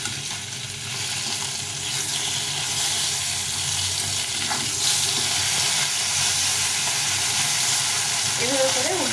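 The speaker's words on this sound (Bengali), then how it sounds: "বাদামটাকে ভেজে নেব" Peanuts frying in hot oil in a home kitchen, a steady close sizzle with a faint voice beneath.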